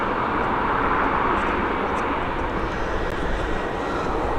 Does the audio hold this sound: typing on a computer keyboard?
no